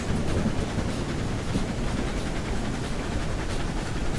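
An eight-car heavy freight train in Railroads Online grinds up a 2% grade, a continuous dense rumble of wheels and rolling stock with faint clatter, moderately quiet and without voices.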